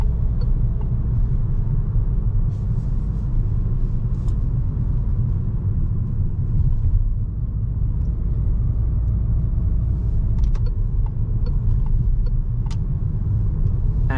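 Steady low rumble of a facelifted Peugeot with a Blue HDi 130 HP diesel and EAT automatic gearbox cruising at night, even road and engine drone heard from inside the cabin throughout, with faint occasional clicks and no talk.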